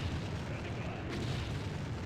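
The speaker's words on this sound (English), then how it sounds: "I hate artillery." Artillery fire in the video game Empire Earth comes as a steady low rumble of booms with a brief sharper burst near the middle, moderately loud throughout.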